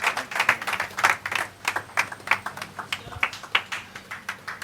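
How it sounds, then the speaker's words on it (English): Scattered hand clapping from a small group, irregular and uneven, moderately faint with no voices over it. "a round of applause for Pastor Emmanuel"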